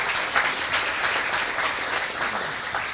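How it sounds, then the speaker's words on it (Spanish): A church congregation applauds for a young couple from Guadalajara expecting a baby, steady crowd clapping at moderate distance, filling the short stretch with an even, dense patter. "Les damos un aplauso por ese bebé que viene."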